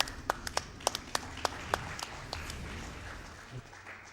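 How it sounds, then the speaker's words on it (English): A handful of sharp handclaps ring out in quick succession at a speedrunning event, then thin out and stop, sounding like a single small round of applause. "We need some applause for that."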